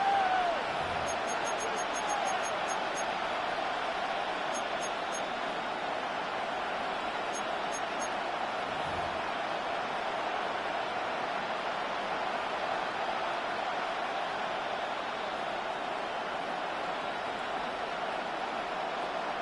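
Steady roar of a stadium crowd in Madden 25, an American football game, with Eagles facing Lions on third and long; dense, continuous wash of noise at constant level with a few faint bright blips near the start.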